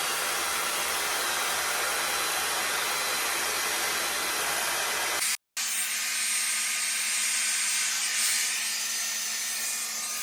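A hair dryer blows steadily while drying hair, a loud broadband whoosh that cuts out for a split second and then resumes with a slightly different, thinner tone, running alone without talk.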